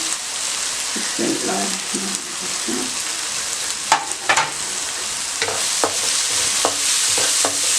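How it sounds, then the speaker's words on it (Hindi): Tomatoes and spices fry in a pan with a steady, close sizzle and crackle, broken by occasional scrapes and taps of a stirring spoon; no voices. "चंद सेकंड के लिए इसको मज़ीद फ्राई करें ताकि मिर्चें अच्छी तरह से भून जाए।"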